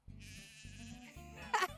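Sheep bleating as they crowd in to be fed on a farm, several repeated nasal bleats close by, with a louder, sharper cry near the end over low steady background rumble.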